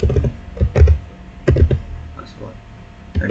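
Fingers type a switch configuration command on a computer keyboard, giving uneven bursts of close, fairly loud keystrokes with short pauses and a room-like background.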